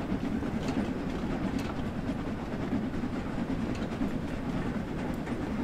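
In Train Sim World, the Polar Express steam train gathers speed, giving a loud, continuous rumble with dense clickety-clack wheel noise and no voices over it.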